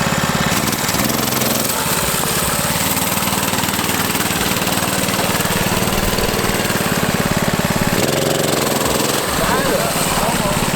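Mini ATV with a swapped 212 engine revving hard as it launches, a loud, buzzy, close engine note that rises and dips a couple of times, with brief voices faintly underneath.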